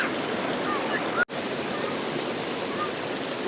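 Cold river water flowing in a steady broadband rush at Barangay Mahaba, Cabadbaran City, loud and continuous throughout, with one brief dropout partway through.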